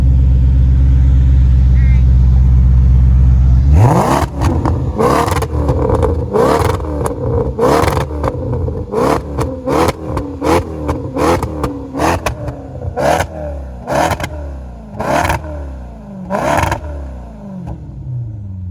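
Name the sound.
Ferrari-powered car with aftermarket exhaust revving in sport mode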